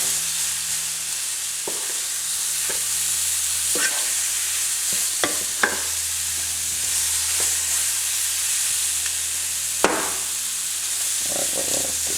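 Shrimp coated with garlic being stirred and turned in a pan on the stove, a steady sizzle with scattered clinks and scrapes from the utensil, heard alone without talk.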